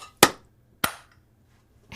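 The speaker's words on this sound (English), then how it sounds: "So I clapped" Two sharp, loud hand claps about half a second apart, each alone in near silence, with the start of a third at the very end.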